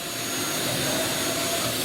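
Steady, loud whirring drone of an aging CNC machine's X and Y axes moving during a warm-up program, a continuous motor and drive hum with no talking.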